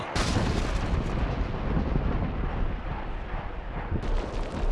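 Gunfire and artillery in the Lord of the Rings: Aragorn's Quest video game, a dense, continuous roar of overlapping blasts and rumble, loud and unbroken, with an abrupt start and a slight shift near the end.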